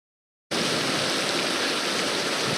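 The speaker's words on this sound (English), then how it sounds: "you guys can just see the wisps of rain coming by here, the sheets of rain that are coming out here" Sheets of wind-driven rain during Hurricane Harvey sweep past a park gazebo, a dense, steady roaring wash that starts abruptly after half a second of silence and continues loud and unbroken.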